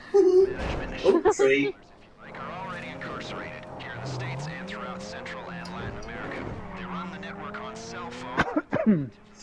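A car engine in a video game revs and climbs steadily through several seconds of driving, with people talking and laughing at the start and again at the end.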